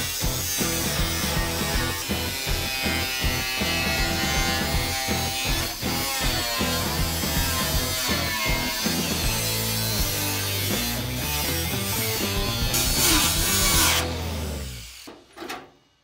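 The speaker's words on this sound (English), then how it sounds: "Took the cutoff disc to it that night" An abrasive cutoff disc grinds through Ford Bronco fender sheet metal in a garage, a loud, sustained whining and rasping cut that runs steadily before spinning down at the end.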